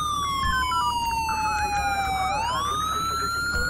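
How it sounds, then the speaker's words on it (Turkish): A police car siren in the video game GTA 5 wails loudly and continuously, its pitch sliding down slowly and then swooping back up, close and alone. "Şu sireni bir kapatayım da."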